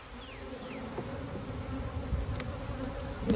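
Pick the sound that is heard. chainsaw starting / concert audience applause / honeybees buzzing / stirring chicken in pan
honeybees buzzing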